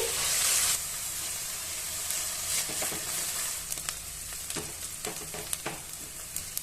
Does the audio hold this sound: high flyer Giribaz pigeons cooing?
no